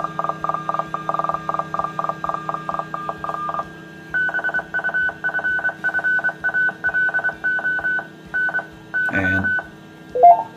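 A local ham radio repeater sends its identification through a 220 MHz mobile transceiver, with rapid tone bursts in a clipped, Morse-like rhythm, loud and close, followed by a brief burst of squelch noise.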